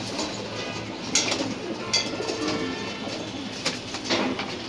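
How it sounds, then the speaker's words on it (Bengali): Soft, low cooing of pigeons with occasional wing flutters and light pecking taps, under a steady background hum. "দেখেন সব এই সাইডেই খায়, নর তো কম, আর এখানে 4-5টা কবুতর মারামারি করে।"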